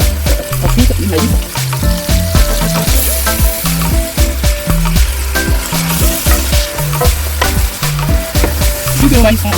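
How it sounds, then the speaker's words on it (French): Carrot and corn simmer in sauce in a pan for an Algerian rice dish, giving a steady, close sizzle and bubble that runs unbroken throughout. "on va les laisser mijoter tout doucement dans le jus de notre sauce"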